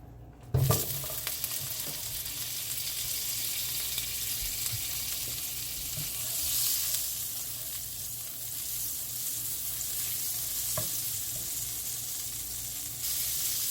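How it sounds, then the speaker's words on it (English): Vegetables stir-fried in butter for Jamaican-style beef stir fry sizzle loudly in a hot pan from the start, a steady close hiss with occasional scraping stirs and no talk. "I'm gonna go ahead now and stir fry my vegetables. I'm gonna add butter, half a stick."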